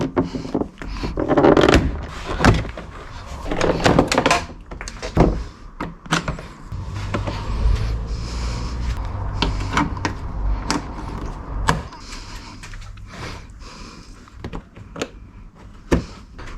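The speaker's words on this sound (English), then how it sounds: "So that's how you remove the door cards." Door card trim panels being pried off a Ford Fiesta MK8, a series of sharp plastic clicks, pops and thunks at irregular intervals with quieter handling noise between them.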